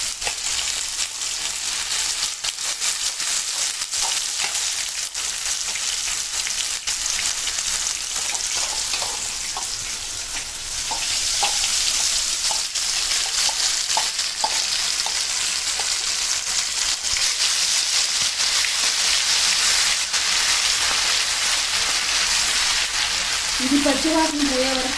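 Ginger garlic paste frying in oil left from cooking chicken for a chicken pickle, a steady loud sizzle running throughout with faint stirring.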